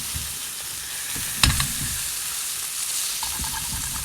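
Steak fat fries with spices in a very hot pan outdoors, giving a steady, close, loud sizzle throughout, broken by a brief clatter about a third of the way in; no one speaks.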